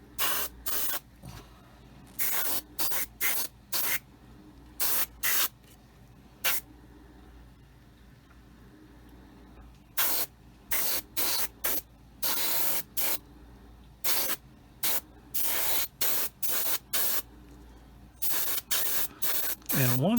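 Spray paint laid on in short, close hissing bursts while a second coat goes onto a model aircraft, irregular quick sprays with brief gaps between them, and a voice speaks in places.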